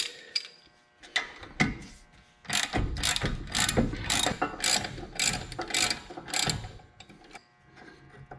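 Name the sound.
ratchet wrench turning while removing Camaro brake parts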